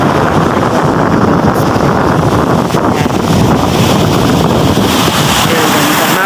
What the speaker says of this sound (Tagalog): Pero malakas pa rin po ang hangin na.